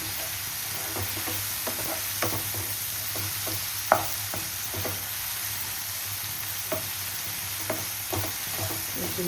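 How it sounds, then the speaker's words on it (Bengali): Chicken pulao stirred and frying in a pan, a steady sizzle with scattered spoon scrapes and clinks at irregular intervals, close and moderately loud, no talking. "একটু ভালো করে নেড়ে নেবো।"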